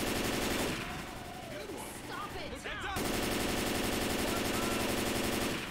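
Rapid automatic gunfire rattles in the Left 4 Dead 2 video game, a loud continuous burst that pauses briefly while a voice speaks, then resumes in a dense sustained stream.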